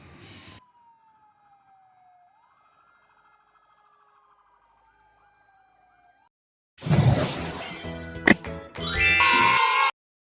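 A fire truck siren sounds alone, a single smooth wailing tone that slides down, rises and falls in slow sweeps, then gives way to a burst of loud, busy clatter near the end.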